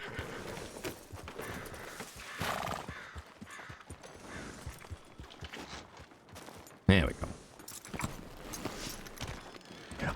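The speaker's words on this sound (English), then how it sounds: "there's a certain number of horses that then trigger like that, the proper thundering of" Several horses gallop together in Red Dead Redemption 2, hooves thumping in a steady, rumbling clatter with a sharp loud burst partway through, while people talk over the running herd.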